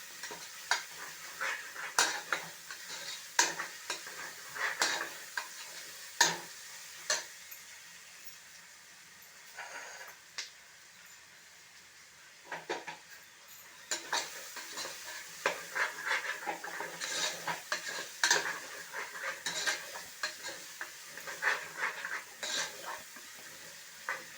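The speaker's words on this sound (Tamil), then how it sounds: "மீடியம் ஃப்ளேமில் தான் இதை வதக்கணும்" Onions with ginger-garlic paste sauté on a medium flame for Ponni rice mutton biryani: repeated scraping stirs of a spoon in the pan over a continuous low sizzle, close and fairly quiet, with one brief pause.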